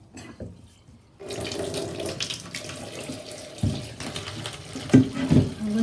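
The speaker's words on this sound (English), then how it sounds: "I just go for some hot water." Hot water running from a tap, starting after a brief quiet moment and then a steady gushing flow with some splashing changes toward the end.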